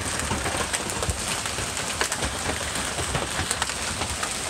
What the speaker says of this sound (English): Look at the hail bouncing over there.